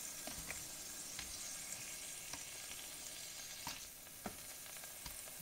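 Beef browning in a pan for a tomato stew, a continuous close sizzle with scattered sharp crackles and pops, no voices.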